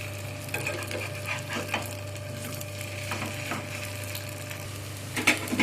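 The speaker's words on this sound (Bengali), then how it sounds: "এইভাবে করে উল্টে পাল্টে ব্রাউন কালার করে ভেজে নেব" Potato and pea tikki frying in a pan, a moderate steady sizzle with scattered scraping and turning clicks, no talk.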